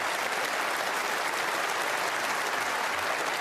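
Snooker crowd at the 2017 UK Championship final applauding an attempted positional shot, a steady, dense clapping that fills the arena evenly throughout without pause.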